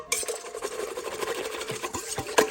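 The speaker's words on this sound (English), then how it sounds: "And mix that honey in there." Honey being stirred into a bread batter of yeast and water, a soft wet scraping and swishing with the occasional tap of a utensil against the bowl, close by.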